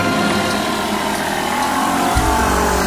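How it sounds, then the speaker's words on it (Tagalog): A motorcycle engine runs loud and close, holding a steady rough drone and then dropping into a deeper low rumble near the end. "Biglang umandar ang motor."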